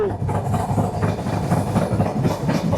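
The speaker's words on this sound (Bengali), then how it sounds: "যে ট্রেন এখন সেতুতে উঠছে দেখতে পাচ্ছেন ওই যে দূরে সেতু" The Padma Express passenger train from Rajshahi to Dhaka rolls onto the new Jamuna rail bridge with a loud, continuous rumble and rhythmic clickety-clack of wheels, heard from on board.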